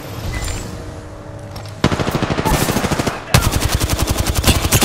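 Rapid automatic gunfire in Apex Legends: two loud, sustained bursts of evenly spaced shots, the second starting just after the first with a brief dip between them, close and dominant over faint game ambience.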